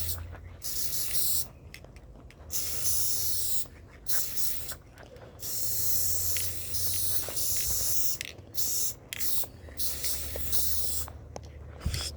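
Gorilla Spray Adhesive Heavy Duty hisses out of an aerosol can in several bursts of varying length, separated by short silent pauses, close to the mic.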